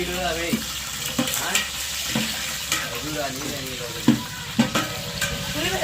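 Beans and onions frying in a pan for pulao, with a sizzle under regular spatula scrapes and knocks, close and fairly loud, while a voice murmurs faintly in the background.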